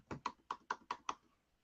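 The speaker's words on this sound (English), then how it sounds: "I'm typing on something real quick." Quick clicks on a computer keyboard, about six distinct keystrokes in a steady burst, close and quiet, with no talk.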